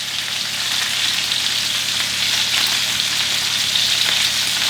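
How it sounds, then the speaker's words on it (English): Meat sears in a hot pan before finishing in the oven, a loud, steady, close crackling sizzle that holds evenly throughout with no talk. "sear them really good, and then I'm gonna finish them off in the oven"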